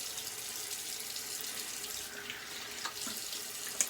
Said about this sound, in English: I do like a warm water rinse.